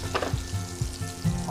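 Butter sizzles in a frying pan already used for searing salmon, a soft hissing crackle with a few faint stirring knocks, no talking.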